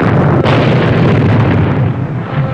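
Torpedo explosion sinking a transport ship, heard as a continuous, loud, roaring blast with a rumbling, crackling body that fills the whole short stretch without letting up, and no talk.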